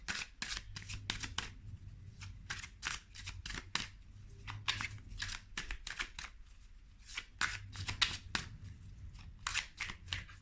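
Oracle cards are shuffled close up, giving repeated quick riffling bursts in an irregular rhythm, with a low hum beneath.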